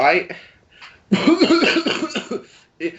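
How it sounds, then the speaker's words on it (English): A harsh, raspy cough performed in character during a tabletop role-playing session bursts out in a rough run of several hacks, close and loud, with a voice speaking briefly before and after. "I just start coughing in character"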